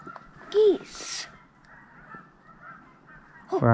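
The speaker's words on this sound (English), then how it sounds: "Geese." Geese honking nearby along a loop trail at Sandy Point, a sharp honk early on, then a softer honk and quiet outdoor ambience before another honk at the end.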